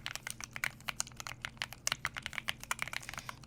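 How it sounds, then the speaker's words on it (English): Close, crisp clicking of computer keys in an irregular typing rhythm, fairly quiet with no voices. "But it's actually an entirely new keyboard."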